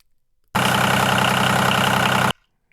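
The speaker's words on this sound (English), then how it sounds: "you can hear we've got one tractor idling sound, or that's a diesel engine sound" A diesel tractor engine idles as a looped sound effect, a loud steady rumbling chug that starts abruptly, holds even for under two seconds and cuts off cleanly.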